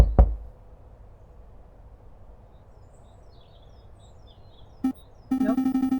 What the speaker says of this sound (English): we should knock anyway.